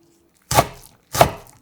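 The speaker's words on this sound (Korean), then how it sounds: "송송송 잘게 썰어주고 서로 방향으로 4번 작게 잘라 부침볼에 담아주세요" Knife chopping blanched, squeezed spring cabbage (bomdong) on a board: two distinct crisp chops about half a second apart, close and clear, with no talk.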